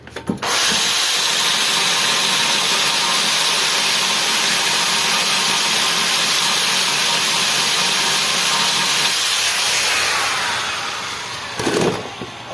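A hand drill adapted to work as an angle grinder, rated at 2,800 RPM, runs up to speed and holds a loud, steady whirring drone for about ten seconds, then winds down, with a brief clunk of handling at the end.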